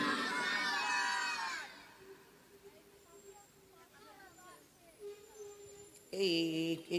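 A gathering of children at a ghazal event shouts a takbir together in a loud, brief cheering burst at the start and again near the end, with a voice talking between.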